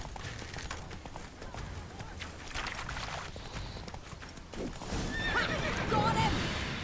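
Roach, Geralt's horse in The Witcher 3, lets out a loud whinny over galloping hoofbeats in a game scene, with game music and ambience beneath; the neigh rises clearly toward the end.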